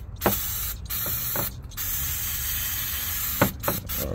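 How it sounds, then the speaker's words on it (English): Brake cleaner sprayed from an aerosol can onto a 2007 Chevrolet Tahoe throttle body: a loud, close, continuous hiss broken by a few short pauses and clicks of the nozzle. "So I'm gonna use some brake cleaner to carburetor throat cleaner, throttle body cleaner."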